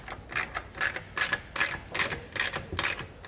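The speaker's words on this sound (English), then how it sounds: "tighten down those large bolts with a 1/2-inch socket" A ratchet wrench with a 1/2-inch socket tightens large bolts on Yakima LockNLoad platform rack crossbar clamps, giving about eight evenly spaced bursts of sharp clicking, close and moderately loud, with no talk.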